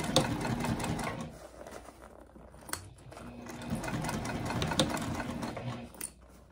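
A sewing machine stitches all the way around the edge of a fabric snack pack bag, giving a steady close whirring run with brief pauses and restarts.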